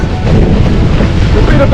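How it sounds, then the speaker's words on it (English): Strong 20-knot east-northeast wind while windsurfing around Hayling Island, a loud, steady rushing buffet of wind noise hitting the microphone, full and continuous throughout with no clear voice. "Wind's still doing a solid 20 knots from the east-northeast"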